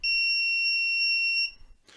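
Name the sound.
breadboard ultrasonic distance alarm buzzer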